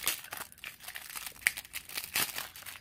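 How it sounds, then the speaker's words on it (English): Plastic mail packaging crinkles and tears as a package is cut open with scissors, close and crisp, with irregular rustling bursts and sharper snips around the middle and end. "Let me get some scissors and open it."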